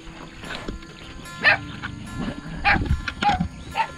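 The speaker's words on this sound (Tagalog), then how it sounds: "At ayun yung mga aso" Dogs bark near a house in San Ildefonso, giving a few short sharp yaps and whimpers scattered over faint background noise, moderately close, with no clear speech.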